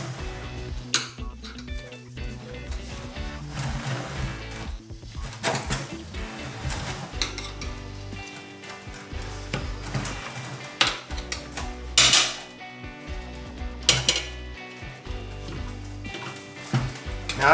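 Metal tire spoons lever a dirt bike tire onto its rim, giving a run of scattered clanks, scrapes and metallic clinks that come close and fairly clear, with quiet stretches between the pulls.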